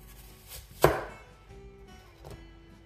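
A single sharp knife chop through an apple on a cutting board during salad preparation, close and distinct, followed by a few quieter taps in a calm kitchen.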